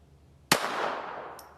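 One sharp, close gunshot from a Glock 44 .22lr pistol firing hot loads, with a short ringing decay and a faint metallic click afterward.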